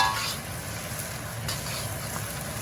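Crab and Chinese sausage egg fried rice being stirred in a hot pan, a steady close sizzle and frying hiss with light scraping, continuous and fairly quiet.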